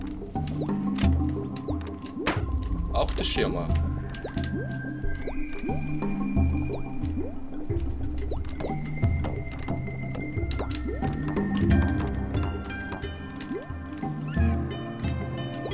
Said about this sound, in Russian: Воды насобираю.